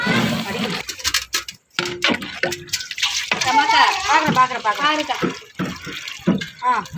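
Water is poured into a pot of chicken biryani, a splashing, running pour under close, continuous talk from a person.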